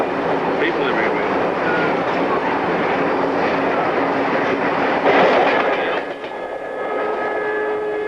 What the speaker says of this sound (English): Hold your hat, that was the Indian Pacific train.